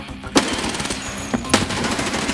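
Gunfire in the video game Escape from Tarkov, a loud continuous rattle of rapid shots with a few sharper cracks standing out, no voices over it.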